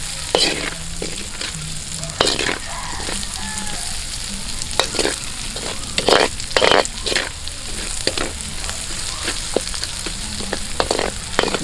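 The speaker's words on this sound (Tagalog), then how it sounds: "Gisa natin konti ha, hanggang sa mag brown na siya konti." Garlic and onion sauté in a pan outdoors, giving a continuous low sizzle broken by sharp, repeated clanks and scrapes of a spatula stirring against the metal.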